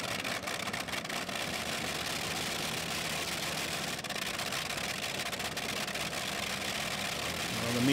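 A loud, steady pulling tractor engine roar, from a German tractor at the ETPC Eurocup tractor pulling finals in Great Eccleston, fills the whole stretch, droning continuously at high power and swelling slightly louder toward the end.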